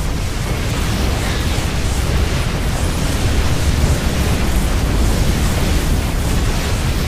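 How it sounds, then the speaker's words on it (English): A cannon is destroyed in a StarCraft-style real-time strategy game, producing a loud, dense roar of explosion noise that rumbles continuously for several seconds without a break. "our first cannon is down"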